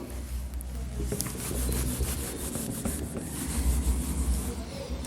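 Writing being rubbed off a classroom board in a maths lesson gives a steady scraping, rubbing sound that continues for several seconds at close range, with no talk over it.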